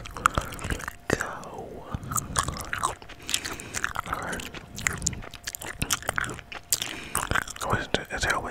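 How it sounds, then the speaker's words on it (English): Gum chewing sounds close to a microphone: wet smacks, soft bites and crunches in an irregular rhythm, with quiet whispered talk running alongside while a Roblox speedrun is played. "And I'm chewing gum."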